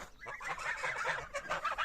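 Geese honking and cackling together in a busy, overlapping flock, close and fairly loud for a couple of seconds.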